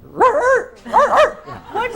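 A person's voice imitates a barking dog, giving three close, loud, yelping bow-wow calls in an uneven rhythm.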